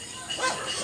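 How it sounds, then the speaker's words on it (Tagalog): A dog at a rural relative's home, kept among chickens, ducks and goats, gives a short, somewhat distant yip or bark over steady background noise. "may aso"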